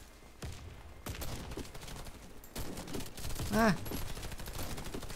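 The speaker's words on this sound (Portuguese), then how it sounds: "Os tiros não tá acertando, velho. É shotgun, tiro se espalha, jogo." Shotgun blasts in the video game Warface ring out in a rapid burst of loud gunfire, with a brief shouted exclamation from a player partway through.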